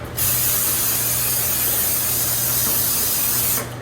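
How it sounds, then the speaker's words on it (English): A steady, close aerosol spray of butter-flavored cooking spray into a pan hisses for about three seconds, then cuts off abruptly. "I just have some butter flavored cooking spray here"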